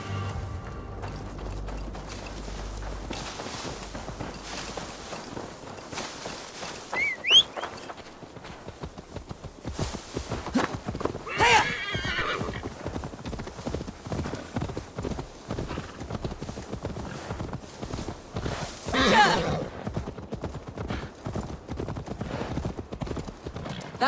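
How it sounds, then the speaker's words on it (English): Rapid hoofbeats of a horse in Assassin's Creed Valhalla pound in a continuous galloping rhythm, loud and close, with occasional creaks and a brief whinny, and no talking. "Now to deliver Magni his horse."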